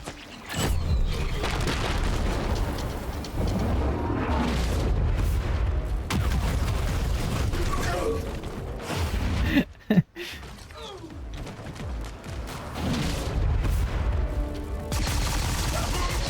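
Gunfire and explosions in an Earth vs Mars real-time strategy battle: repeated booms and thuds with bursts of shots, dense and continuous, with a brief sharp dropout midway.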